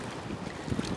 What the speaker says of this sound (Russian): Море теплое, но неспокойное.